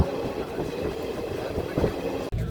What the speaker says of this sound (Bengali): ট্রেন বেথুয়া ডৌরি স্টেশনে ঢুকে গিয়েছে।